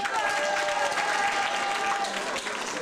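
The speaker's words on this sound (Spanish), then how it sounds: "ajmo navijajmo aplauz za njih" School audience applauding students at an event, dense continuous clapping of many hands filling the room at steady volume throughout, with a few faint voices underneath.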